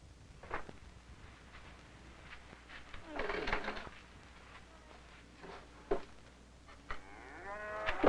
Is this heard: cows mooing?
yes